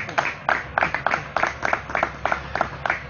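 A live studio audience claps in a rhythmic, evenly spaced beat, about ten firm claps in unison over a steady murmur.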